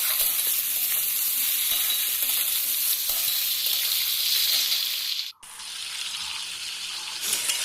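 Potatoes and onions frying in a pan, a loud, dense, steady sizzle up close that briefly cuts out before resuming just as strongly.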